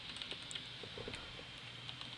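Typing on a computer keyboard during a hardware project demonstration, a steady patter of quiet, close key clicks continuing alone without speech.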